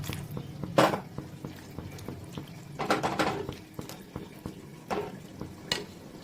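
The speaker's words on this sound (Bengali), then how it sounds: "এইবারে দিয়ে দিচ্ছি আমি জল" Water poured into a hot pan of fried long beans for a Jharkhand-style dry sabji, giving several sharp sizzling bursts that hiss and fade between quieter bubbling.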